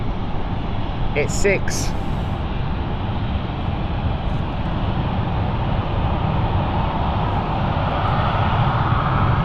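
An airliner taking off at London City Airport, its engine roar a steady broad rumble in the distance, with a person briefly talking over it early on.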